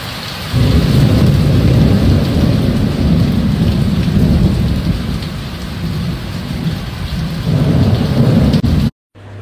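Heavy rain pours steadily with a deep rolling rumble of thunder beneath it, loud and close throughout, with no voices, ending in a brief cut.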